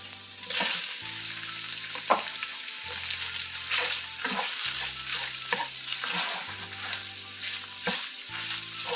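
Ground beef sizzles and fries in a pan while it is stirred, with scrapes and clacks recurring every second or so over a steady crackle, close and fairly loud, with no voices.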